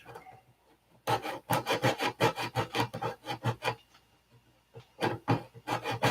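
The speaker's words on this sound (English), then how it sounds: "I left the sandpaper stick over about 1/8 of an inch because we don't want to dig into anything. And just short strokes." A sandpaper stick rasps across a wood edge in short, quick back-and-forth strokes, a close, steady run of scratchy bursts that pauses briefly and then resumes.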